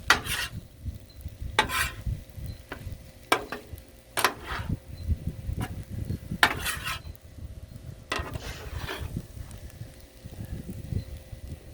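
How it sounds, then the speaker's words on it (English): A spatula scraping and stirring jambalaya on a Blackstone griddle, with irregular metallic scrapes and clinks over a soft steady sizzle, close and fairly quiet. "Let's give it a good stir, shall we?"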